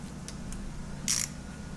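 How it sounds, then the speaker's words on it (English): A torque wrench set to 100 foot-pounds is fitted onto a belt tensioner arm, giving a couple of faint clicks and then a short, sharp ratcheting burst, with no talking. "I'm setting the torque wrench now up to 100 foot-pounds, and all we're going to do is put this on that tensioner arm"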